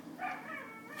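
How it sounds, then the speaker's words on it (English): A dog gives a single short, wavering bark or yelp at moderate distance, briefly rising and then trailing off. "Oh, the bloody dogs."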